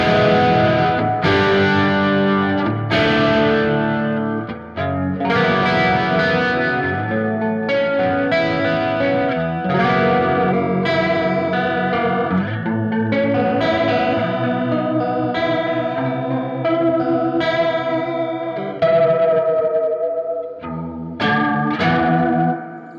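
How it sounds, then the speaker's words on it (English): Clean electric guitar played through a Roland Space Echo tape unit with its chorus set to the most extreme level, a steady stream of shimmering chords and notes, close and loud, with no talking. "Even with the chorus at the most extreme level, it's still cool and not like seasicky"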